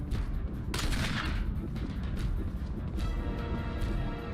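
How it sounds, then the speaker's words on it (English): Gunfire in the survival horror game Resident Evil 1, a burst of sharp booming shots with a heavy blast near the start and scattered reports after, loud and close amid game noise. "Shoot him!"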